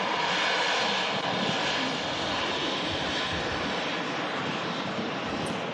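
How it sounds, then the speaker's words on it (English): An Embraer 190 airliner arriving from Lisbon at Manchester Airport gives off a loud, continuous engine roar. Jet noise fills the whole stretch without speech. "It's taken this Embraer 190 to arrive from Lisbon."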